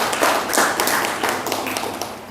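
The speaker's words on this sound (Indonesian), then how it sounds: "Tepuk tangan untuk beliau, sahabat-sahabat." A student literacy-school audience claps briefly, a short cluster of hand claps close by with a fairly even rhythm, fading slightly toward the end.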